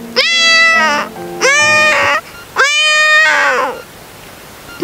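Three loud, drawn-out mewing calls come in succession, each rising then falling, as a person imitates a kitten on stage at a church feast cultural program.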